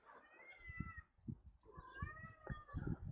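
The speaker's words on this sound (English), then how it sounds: "Got a desperate cat inside who's jealous of me." A cat meows indoors, several drawn-out plaintive calls in a row at moderate distance, fairly quiet with no talking.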